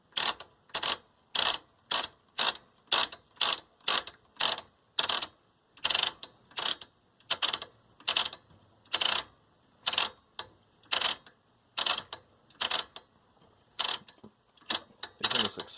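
Ratcheting clicks from the rotary channel tuner of a 1970s General Electric color TV, model CYA7342, turned back and forth after contact cleaner, a close, loud run of evenly spaced detent clacks in bursts.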